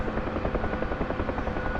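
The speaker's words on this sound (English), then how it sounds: "It's not particularly easy to fly the helicopter and be a door gunner." A Huey helicopter in the DCS flight simulator, with a steady loud rotor thump and engine whine filling the whole stretch, close and continuous with no talk.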